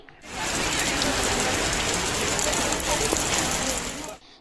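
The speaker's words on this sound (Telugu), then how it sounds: "సాయంత్రం వాతావరణం ఒక్కసారిగా మారిపోయి వర్షం కురిసింది" Moderate evening rain pours down over Hyderabad as a dense, steady hiss that swells in quickly, holds evenly and then cuts away near the end.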